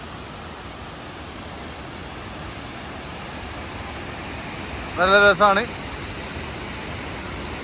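A waterfall short of Athirappilly in Kerala roars as a steady, broad rush of falling water heard from a distance, with a brief spoken remark cutting in over it.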